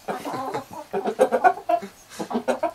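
A farmyard rooster among hens gives repeated throaty clucks in quick bursts, close by and loud, with no voices over them.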